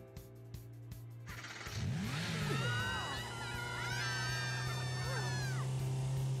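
A car engine in the video game Persona 5 Strikers rises in a revving acceleration as a character drives, with tonal game sounds, whooshes and a steady low hum layered over it; a vocal-like squeal appears early.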